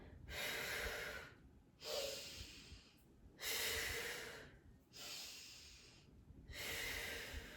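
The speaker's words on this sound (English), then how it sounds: "I'm breathing loudly so you can hear the breath sequence with this exercise" Loud, rhythmic breathing close to the mic, with long audible inhales and exhales alternating with short pauses in a steady cycle.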